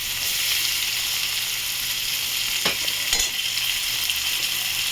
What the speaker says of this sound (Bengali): আমি এখানে 2টো মিডিয়াম সাইজ পেঁয়াজ কেটে রেখেছিলাম, এটা দিয়ে দেবো